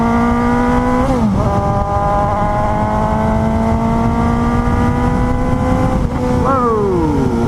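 A 2018 Suzuki GSX-S 750 motorcycle engine burbles steadily and loud, with a short rev dip near the start and another rise and fall toward the end, close and continuous throughout.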